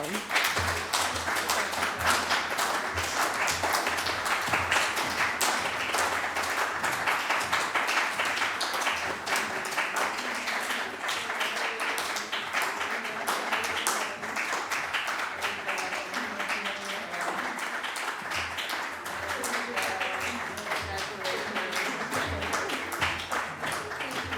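A symposium audience claps continuously for a long stretch, a dense, even patter of many hands with voices talking faintly underneath.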